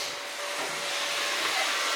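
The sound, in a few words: vacuum cleaner running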